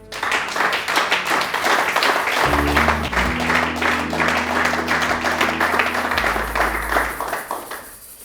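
A church congregation breaks into sustained, dense applause, loud and close, with a low drone joining partway and the clapping tapering off at the end.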